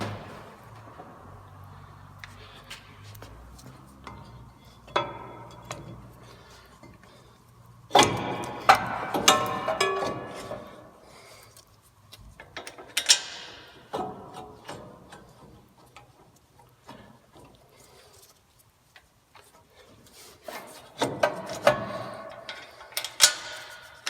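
A wrench snugs up the brake caliper mounting bolts on a Toyota Tacoma, with irregular metallic ratcheting clicks and clanks that come in bursts, close by, with quiet gaps and no speech.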